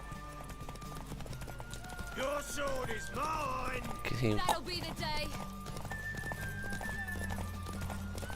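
A horse runs in a video game, its clip-clop hoofbeats steady under game dialogue and music, with a whinny in the middle, moderately loud.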